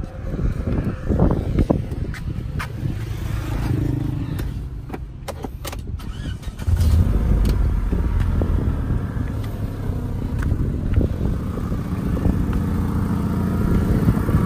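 A 2008 Daewoo Lacetti sedan engine cranks and catches, then idles with a low rumbling drone close by, with a rougher exhaust note from a cracked exhaust pipe and no speech over it.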